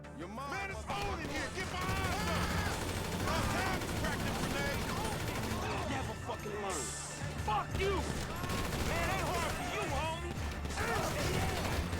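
Rapid gunfire from the GTA 5 video game during a jewel shop heist in story mode, loud and dense throughout, mixed with game effects and someone talking over it.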